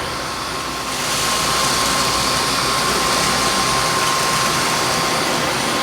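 A Dyson V9 Digital Slim cordless vacuum on medium power runs steadily over carpet, picking up scattered kitty litter, its loud whooshing motor whine starting about a second in and holding constant, with no talking.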